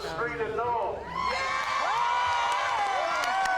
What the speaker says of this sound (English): you can hear the crowd cheering